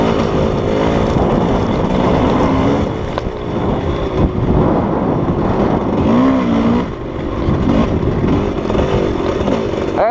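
A trials motorcycle on a rough canyon trail pulls away after an upshift to a higher gear, its engine note steady and close, with a rising tone near the middle and wind buffeting over the whole stretch.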